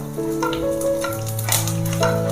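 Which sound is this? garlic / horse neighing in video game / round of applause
garlic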